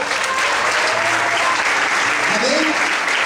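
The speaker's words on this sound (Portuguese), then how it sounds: "Merece um aplauso bem forte?" A church congregation applauds loudly, dense and sustained clapping that fills the room from start to end, with a few voices calling out beneath it.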